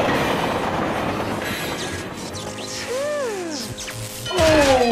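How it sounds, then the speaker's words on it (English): A cartoon train rumbles by steadily, with a rising wheel squeal near the end and a horn-like tone partway through. "There's a train coming."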